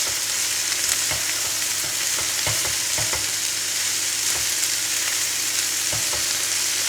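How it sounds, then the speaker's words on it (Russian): Steady, crackling sizzle of meat frying in a pan over medium heat, with occasional soft knocks and scrapes as it is stirred. "И видите, жарим на среднем огне."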